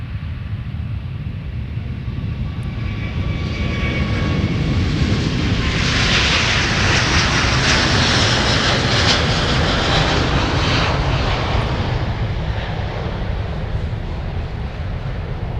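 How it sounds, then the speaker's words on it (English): A Delta Airbus A350 heavy jet takes off from Minneapolis–St. Paul airport, its engines swelling into a loud, broad roar that peaks mid-clip and holds steady without speech. "Delta 171 Heavy is now departing for Seoul, South Korea with the big A350"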